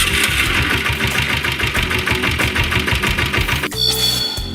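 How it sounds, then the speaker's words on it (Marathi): A motorcycle engine, said to start on its owner's voice command, runs loud and close with a steady rapid knocking pulse, then cuts off abruptly near the end, leaving a brief different tonal sound. "मालकानं आवाज दिला की बाईक आपोआप स्टार्ट होते."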